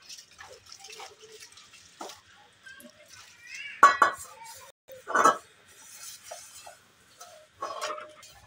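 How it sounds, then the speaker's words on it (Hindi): Dishes, pots and pans being washed, with scattered clinks of metal and drips of water, a few louder knocks and clatters spread irregularly, close by and otherwise quiet. "अभी जो है ना बर्तन वगैरह धो रहे हैं"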